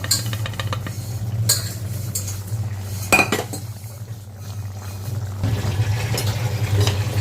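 A spoon stirs cooked dal into sambar masala in a metal pot, giving a steady scraping swish with intermittent clinks against the pot, close and fairly loud over a low hum.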